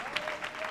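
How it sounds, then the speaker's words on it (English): A church congregation clapping hands for a short moment, a dense, steady patter of many claps at moderate level. "Clap your hands for Daniel."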